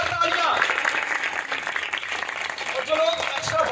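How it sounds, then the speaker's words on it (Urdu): A church congregation claps loudly in a sustained burst of applause, while a voice speaks over the clapping. "روح قدس کے لیے، پاک روح کے لیے زوردار تالیاں۔"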